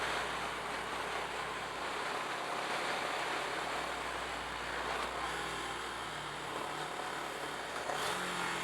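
A 2023 CFMoto 700 CL-X Sport motorcycle engine while riding, a continuous mid-level drone that rises and shifts pitch near the end as gears change, with wind rush behind it and no talking.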